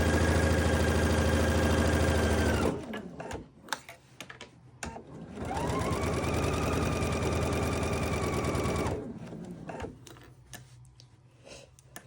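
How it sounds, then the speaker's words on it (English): Sewing machine running a quarter-inch seam, two steady whirring bursts of stitching close up, each a few seconds long, separated by quieter handling noise. "we're just going to continue to sew that at that 1/4 inch seam allowance until we hit the other end"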